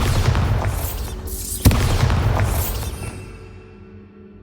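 A Bombarda spell explosion in Hogwarts Legacy, one sharp booming blast up close with a rumbling roar that slowly fades into quiet.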